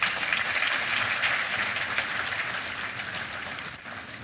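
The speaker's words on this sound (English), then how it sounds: "Please, another round of applause for him." A conference audience at the NES 66th Annual Conference afternoon session gives a sustained round of applause, a dense, even wash of clapping that holds steady and then tapers slightly toward the end.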